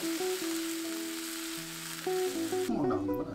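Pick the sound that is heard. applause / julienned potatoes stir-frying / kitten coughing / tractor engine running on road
julienned potatoes stir-frying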